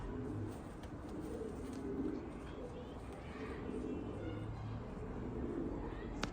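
Erbil breed pigeons coo softly in low, repeated rolling calls over a steady background hum.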